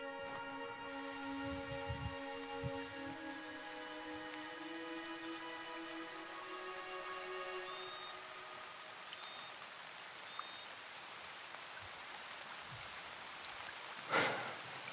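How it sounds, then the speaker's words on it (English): Rain falling in a humid forest during a hike, a soft steady patter under a faint tonal hum, with one brief louder knock near the end. "Yeah, rain's on now."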